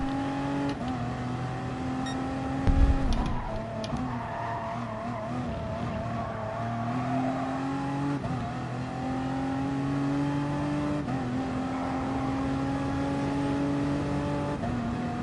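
Race car engines droning steadily in the video game Gran Turismo Sport, with sustained tones that rise and shift as gears change, plus a brief bump near the start, all at a constant loud level with no talking.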